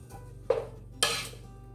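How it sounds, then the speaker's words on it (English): Simmering Roma tomatoes in a pot get stirred, giving two sharp clinks of a utensil against the pot with a soft scrape between them, close and distinct over a quiet background. "you're going to give it a good stir"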